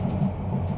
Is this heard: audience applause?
no